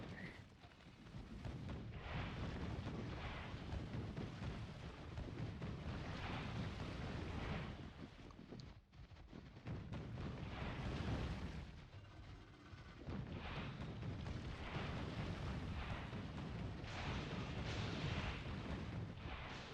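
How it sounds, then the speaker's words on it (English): Artillery bombardment in Factorio pounding against alien biters, a dense continuous rumble of distant shell impacts with a brief lull midway, steady and fairly quiet in the mix. "I'm right in the middle of the artillery bombardment"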